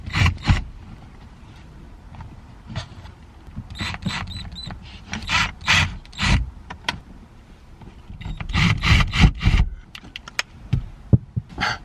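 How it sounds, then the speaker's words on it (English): A T15 Torx screwdriver works screws loose from panels inside a Ford Focus ST cabin, producing irregular close creaks, scrapes and plastic clicks in bursts with short pauses between. "a T15 to take out these screws"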